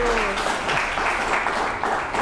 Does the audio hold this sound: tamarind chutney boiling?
no